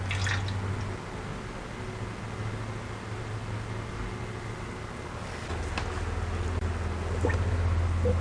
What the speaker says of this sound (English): we are going to start by pouring our lye water into our oils